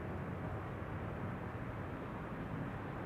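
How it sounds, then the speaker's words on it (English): Airliner landing at Amsterdam Schiphol Airport, a steady loud broadband roar of jet engines and rushing air holding constant throughout, with no voices. "Fingers crossed it's going to be a loud landing with reversers being deployed."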